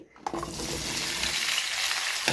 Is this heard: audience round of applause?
no